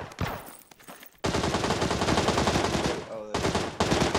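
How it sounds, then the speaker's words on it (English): Rapid automatic gunfire from the PUBG video game on the Sanhok map, a loud sustained burst of rattling shots with brief gaps, preceded by a few scattered shots. "He's shooting at you?"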